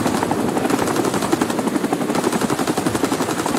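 A helicopter in the Vietnam War shooter Rising Storm 2 gives a loud, steady, pulsing rotor thump that fills the scene, mixed with rapid machine-gun fire.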